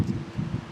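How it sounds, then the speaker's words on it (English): Wind blowing through a cemetery in a small cold town, a brief gusty rumble buffeting the microphone with uneven swells and no voices. "the wind is kicking it"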